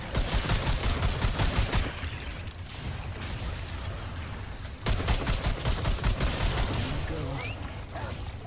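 Sustained rapid gunfire and volleys in the co-op shooter Remnant II, dense and loud throughout, easing briefly midway before resuming at full intensity, with voices occasionally talking over the barrage.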